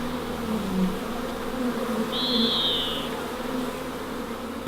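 Bees buzzing near a hive in a garden, a steady low drone with individual insects droning close by, one brief higher whine passing midway, no voices.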